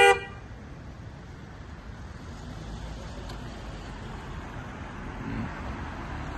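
One short, loud car horn honk right at the start, then a continuous low rumble of road traffic on a foggy day with turkeys blocking the road.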